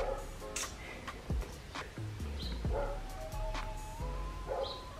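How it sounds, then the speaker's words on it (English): Dogs at home bark repeatedly over five seconds in irregular bursts of short yips and woofs, close by and fairly loud, with some whining mixed in and no speech. "Can that dog shush?"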